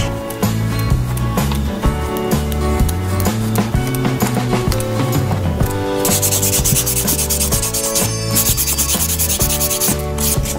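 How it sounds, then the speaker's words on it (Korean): An acrylic nail extension is sanded with rapid, continuous rubbing strokes, loud and close, over steady background music with no speech. "샌딩 작업을 이렇게 진행해 주세요."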